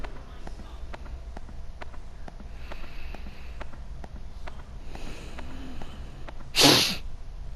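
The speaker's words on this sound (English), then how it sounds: "And I'm sorry again for all this sniffling." A person sniffles several times in short, quiet bursts over a faint background, then lets out one loud, sharp sneeze near the end.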